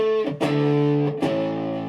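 An electric guitar plays through a Stone Deaf PDF2 distortion pedal, with a few sustained, crunchy distorted notes and chords, struck about twice and ringing out, loud and close with no talking.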